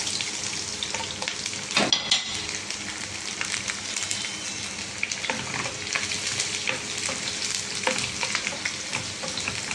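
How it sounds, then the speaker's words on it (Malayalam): Chopped garlic and ginger fry in hot coconut oil for a tomato chutney, giving a steady, close sizzle with occasional stirring scrapes and no voices. "ഇതിലേക്ക് വെളുത്തുള്ളി ഇഞ്ചി അരിഞ്ഞത് ഇട്ട് കൊടുക്കാം."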